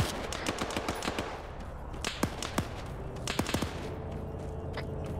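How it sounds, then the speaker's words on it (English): Autocannon fire in a multiplayer war video game, with repeated sharp cracking shots in irregular bursts, some close and loud, others more distant, over a constant dense battle rumble and no talking. "Another fucking autocannon."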